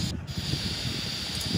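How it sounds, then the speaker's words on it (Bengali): Water in a cooking pot comes to a boil before fish roe is added, giving a continuous close hiss with a soft, bubbling rumble underneath and no talking. "জলটা ফুটে এসছে, এবার মাছের ডিমটা দিয়ে দিলাম।"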